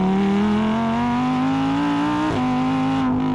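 A Lamborghini Huracan Tecnica, a rear-wheel-drive version of the Huracan, holds a loud, sustained high-revving engine note that climbs slowly, dips briefly near the end, then picks up again; no talking.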